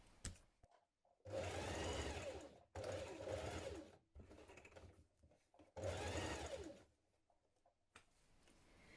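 Sewing machine stitching the sleeve seam of a winter coat, running in several steady bursts of a few seconds each with short pauses between, close and fairly loud.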